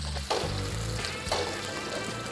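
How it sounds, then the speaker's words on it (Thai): Carrots and asparagus stir-fry in hot oil in a pan, giving a steady moderate sizzle with a few brief louder bursts as the vegetables are moved. "ใส่แครอทกับหน่อไม้ฝรั่งลงไปผัดก่อนนะครับ"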